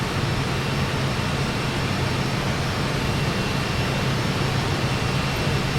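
Fokker F28 jet engines throttling up in a flight simulator, a steady broadband roar with a low rumble that holds loud and even throughout, no voices over it.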